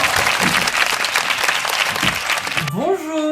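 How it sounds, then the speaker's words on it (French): A burst of loud audience applause for a drag queen opening a reaction show, with a voice calling out over it, ending in a rising whoosh-like sound effect. "faites un tonnerre d'applaudissements publics"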